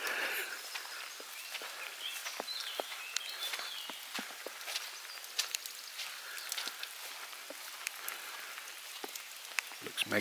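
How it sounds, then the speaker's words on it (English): Steady heavy rain hisses across the whole stretch, with scattered sharper drips and splashes and occasional footsteps, and no voices. "it's good to see I'm not the only crazy person out in the pouring rain"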